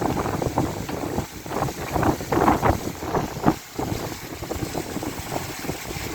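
Strong wind gusts roar during a violent supercell thunderstorm in Valence, Drôme, France. A loud, rushing, buffeting noise surges and dips close to the microphone.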